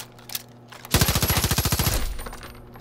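A weapon loaded with piercing ammo fires in the video game Far Cry New Dawn, one rapid burst of about a dozen closely spaced, loud shots lasting roughly a second.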